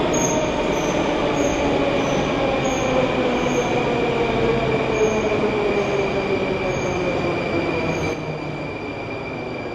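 A Moscow metro train rolls loudly and continuously out of Ploshchad Revolyutsii station, its wheels whining and squealing as it pulls away, with a rhythmic clatter underneath.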